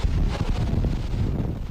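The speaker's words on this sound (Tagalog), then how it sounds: "Sa malakas na ungol ng hangin at makapal na ulap na bumalot sa kalangitan" Strong typhoon wind from Typhoon Glenda in Bataan roars and buffets the microphone in a continuous, rumbling gust lasting a couple of seconds.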